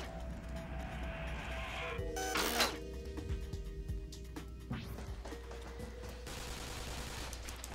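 Rapid machine gun fire from enemies in the video game Spider-Man Shattered Dimensions, a loud burst of shots followed by softer rattling bursts over steady game background noise.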